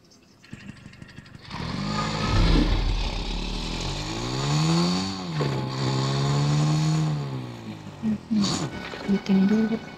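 A Vespa scooter engine in the video game PUBG revs up and holds a droning buzz that rises and falls in pitch, fairly loud and near, with speech over parts of it.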